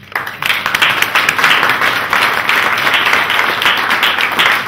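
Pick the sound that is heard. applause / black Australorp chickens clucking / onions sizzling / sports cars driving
applause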